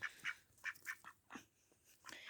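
Several wild ducks quack in quick, uneven bursts, fairly close by, with no talking.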